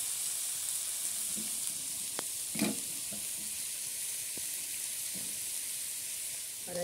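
Onions frying in a pan on a traditional desi clay stove, a steady close sizzle running throughout with a few light clinks and stirring scrapes.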